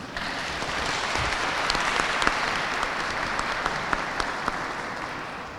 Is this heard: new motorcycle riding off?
no